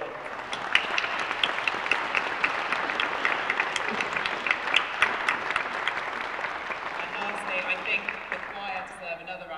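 Audience at a Christmas concert claps for the musical directors: a dense, lively round of many hands clapping for several seconds, then thinning out, with a voice starting to speak as the applause dies down.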